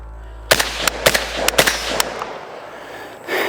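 AK-47 rifle chambered in 5.56 fired outdoors: a rapid string of about six sharp, loud gunshots over roughly a second and a half, each cracking with a short ring, followed by quieter rustling.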